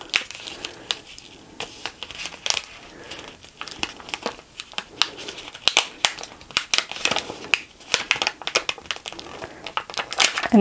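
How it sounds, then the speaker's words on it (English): Transfer tape pressed onto contact paper is burnished, producing a steady series of close, scratchy rubbing and crinkling strokes in uneven rhythm. "So we'll just apply that back, burnish it a couple times."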